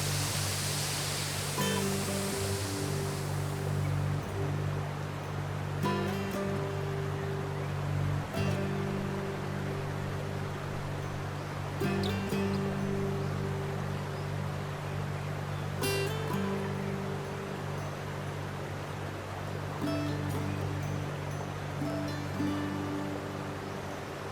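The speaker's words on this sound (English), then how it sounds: "You can almost feel the freshness of the mist generated by the waterfall's cascade" A waterfall cascades in a forest near Sanxia, New Taipei City, giving a continuous, even rushing roar at moderate distance, with a steady hum and faint intermittent clicks beneath.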